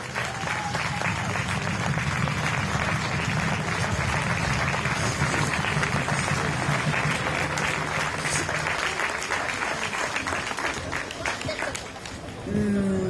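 Sustained audience applause at a charity walk event honouring the president of the Laurette Fugain association, broad and steady for many seconds, fading slightly near the end before a voice returns.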